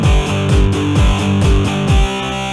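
A distorted electronic bass beat with the low end boosted in FL Studio repeats a thumping kick-and-bass pattern about every half second, loud and gritty with dense harmonics.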